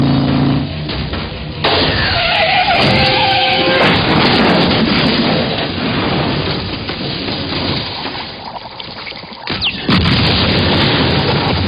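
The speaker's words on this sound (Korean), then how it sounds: "T-1000이 탄 트럭은 불길에 휩싸입니다" A loud, sustained roar of a truck explosion in Terminator 2, with rumbling fire and crashing debris, an intense burst that fades then flares again near the end.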